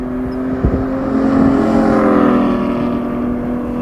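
A Porsche 718 Spyder with a DeMan 4.5L exhaust set to loud mode holds a steady, droning engine note that swells slightly midway, close and fairly loud, with no talking.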